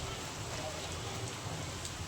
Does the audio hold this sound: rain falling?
yes